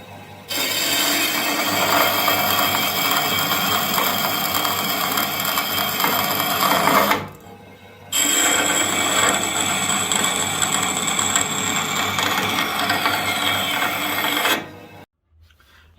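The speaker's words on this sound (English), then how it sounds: "actually cut them on the bandsaw that can cut some sort of non-ferrous metal" A bandsaw able to cut non-ferrous metal slices through knife handle material of wood and epoxy with a loud, steady whine. Two long continuous cuts are split by a short pause.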